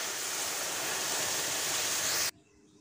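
Masoor dal tipped into a hot kadai of spluttered mustard seeds gives a loud, steady hiss and sizzle for about two seconds, then cuts off abruptly to near quiet, with no talk.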